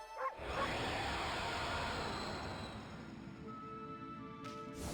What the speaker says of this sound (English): Woof.